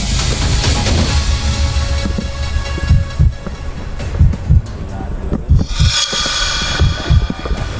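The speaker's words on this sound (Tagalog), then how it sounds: "yung tunog ng alon" Sea waves wash continuously along a shore at Little Batanes in Siargao, a broad steady rush with surging swells, while people talk nearby.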